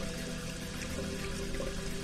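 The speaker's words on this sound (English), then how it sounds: "That water is so HD" Running water in the video game The Wolf Among Us makes a steady, even rushing wash at moderate loudness with no voices.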